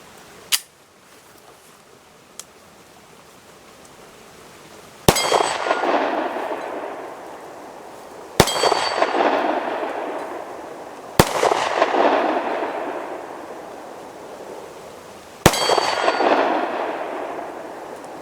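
Glock 26 pistol fired with a 19-round magazine at steel targets outdoors: five sharp shots spaced a few seconds apart, the first two faint and distant, the last four loud with long ringing metallic decays after each, no talk.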